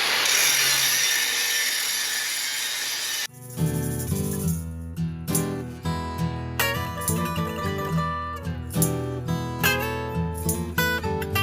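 A loud, harsh grinder wheel scrapes down a metal weld for about three seconds, then cuts off abruptly, followed by a series of ringing, tonal knocks.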